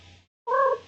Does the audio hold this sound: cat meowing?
yes